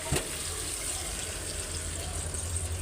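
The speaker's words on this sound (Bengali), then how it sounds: "তো আমি এখন এই যে ঝোলটা দিয়ে দিই, হালকা একটু ঝোল দিয়ে দিই।" Broth poured into frying meat curry in a home kitchen: a steady, broad watery pour with sizzling hiss that runs unbroken throughout, close and fairly loud, with no talk.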